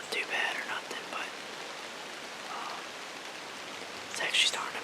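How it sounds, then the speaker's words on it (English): Steady rain falls on a bow hunt outdoors, a soft broadband hiss throughout, with faint whispered talk at the start and end. "it's still kind of raining pretty bad"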